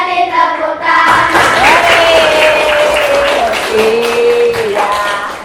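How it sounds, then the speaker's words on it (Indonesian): Children in a classroom clap their hands together during a counting song, with a group of voices singing melodically through most of the clip as the clapping runs underneath. "Lima jari kananku, lima jari kiriku, digabung jadi 10 menjadi tepuk tangan."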